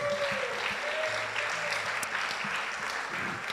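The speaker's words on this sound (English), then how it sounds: "Let's give him a round of applause." A church congregation claps after a sermon, a fairly soft, even spread of applause heard from some distance, steady throughout with faint murmuring underneath.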